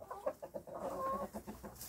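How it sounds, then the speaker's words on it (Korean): Cheonggye and Baekbong hens cluck softly on a rural farm, a run of short close clucks and murmuring calls in quick succession, fairly quiet. "자, 요거 지금 보이시는 건 백봉이랑 청개닭."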